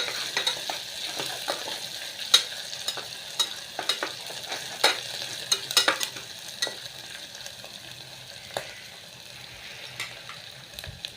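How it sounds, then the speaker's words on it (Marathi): Ingredients being roasted and stirred in a pan until reddish for khichdi, giving soft scraping stir clicks and a light sizzle, up close and with no talk. "चांगलं लालसर भाजून घ्यायची."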